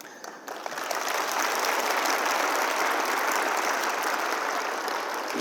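An audience at a book concert in Gwangju breaks into sustained applause, dense clapping that swells in the first second and then holds steady and loud to the end, with no speech over it.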